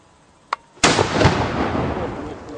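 Handgonne fired at a breastplate: a faint click, then a loud sharp blast that rolls into a sustained roaring, crackling burn lasting nearly two seconds.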